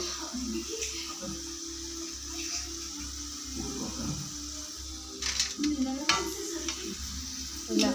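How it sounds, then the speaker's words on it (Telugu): Bitter gourd pieces fry in a pan with a soft, continuous sizzle and occasional stirring scrapes, close and quiet, with a few louder clatters near the end and no speech. "ఇలా మొత్తం బాగా వేయించుకోవాలి"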